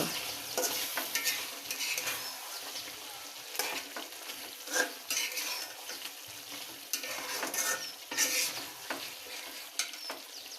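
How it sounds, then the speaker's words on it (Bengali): Spicy chicken pieces and onions fry in a hot pan, with a steady close sizzle and repeated scraping strokes of a spoon stirring them throughout. "মাংসটা কষানোর জন্য পেঁয়াজটা ভালো করে ভেজে নিতে হবে"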